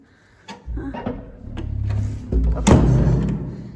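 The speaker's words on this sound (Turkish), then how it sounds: "Yürü kapıyı kilitleyelim buradan." Indoors, a door is pushed shut and locked with a key: a dull thud, shuffling rattles and scraping, then a sharper metallic clack of the lock near the end, close by.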